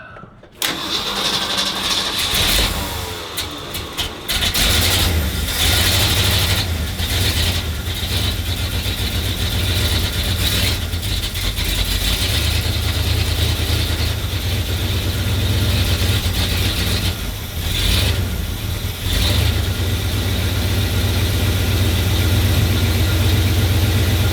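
A 1968 Ford F350 truck engine with an Edelbrock 1406 carburetor cranks and catches, then settles into a loud, steady idle that runs on close by.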